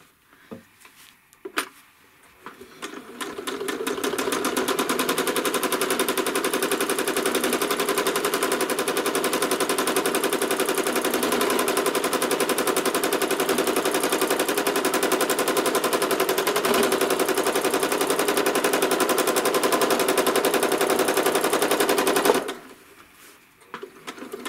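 A sewing machine quilting a fabric block runs for about twenty seconds as a fast, steady mechanical chatter, close and alone, starting after a few soft clicks and stopping abruptly.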